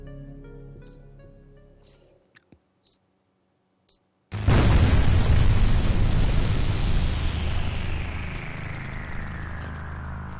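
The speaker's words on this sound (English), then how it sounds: "this is where our bomb goes" Bomb blast in the horror video game Flesh Made Fear, heard as a sudden loud boom with a long roaring rumble that fades slowly, after a few sharp electronic beeps and a quiet pause.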